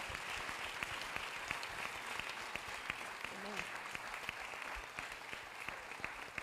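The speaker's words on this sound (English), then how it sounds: "you guys need to show him by a round of applause how much you appreciate" A church congregation at a homecoming service applauds in a sustained wash of clapping with sharp individual claps standing out, while a voice speaks briefly over it.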